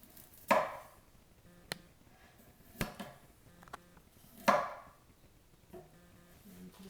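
A knife chopping peeled fresh ginger root on a board, a few sparse sharp chops spaced well apart with quiet gaps between, close and alone.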